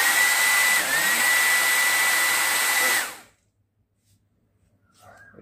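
A homemade electric jet engine motor runs with a loud, high whirring whine and a steady tone for about three seconds, then cuts off abruptly into near silence with faint handling noises.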